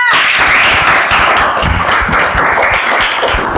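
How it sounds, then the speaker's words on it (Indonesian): Audience applause in a classroom or hall, a loud, dense burst of many hands clapping continuously and close, with no talking over it. "Beri aplaus yang meriah."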